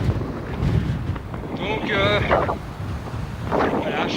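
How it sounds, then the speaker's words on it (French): Headwind roaring across the microphone while cycling at 3000 metres altitude, a steady low rumble with gusts swelling and fading, under a voice speaking briefly. "on a toujours le vent de face"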